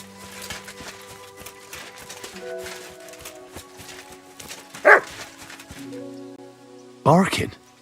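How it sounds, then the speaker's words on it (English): A dog barks in Kingdom Come: Deliverance 2: two short, loud barks, one near the middle and one near the end, over quieter game sounds and background tones. "Barking."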